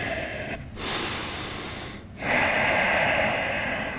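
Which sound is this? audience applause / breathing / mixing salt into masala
breathing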